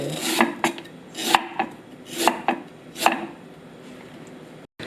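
A knife chops through bamboo shoots on a board in a handful of crisp, separate strokes, close and fairly quiet, with short pauses between cuts.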